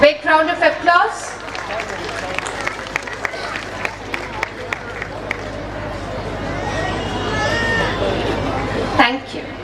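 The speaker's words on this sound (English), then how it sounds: "A big round of applause." An audience at a school Founders Day celebration breaks into a dense wash of clapping and crowd noise, which builds toward the end while voices chatter over it.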